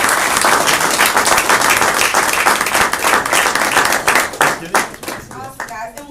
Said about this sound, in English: You guys could join me in giving a round of applause for all of our